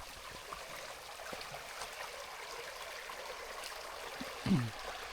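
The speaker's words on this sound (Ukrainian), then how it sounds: "Річка Кам'янка наша." The Kamianka River, running low, makes a quiet, steady rush of flowing stream water in the background, with a brief low thump near the end.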